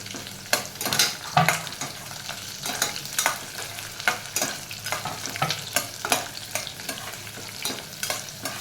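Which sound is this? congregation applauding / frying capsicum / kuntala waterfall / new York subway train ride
frying capsicum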